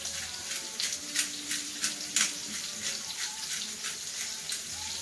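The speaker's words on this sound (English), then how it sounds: "Again, rinse my fingers." A kitchen tap runs steadily as fingers are rinsed under it, a constant close hiss of flowing water with small splashy pulses while roast beef is prepared.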